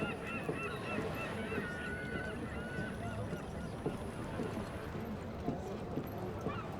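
Seagulls call over a busy harbor in the video game Assassin's Creed Unity, their cries rising above a rumbling ambient bed with scattered clopping knocks throughout.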